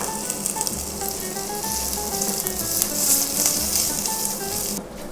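Asparagus and garlic sizzling in a pan on an induction hob, a loud, close, continuous hiss that swells midway and drops off sharply near the end, with a faint tonal hum underneath.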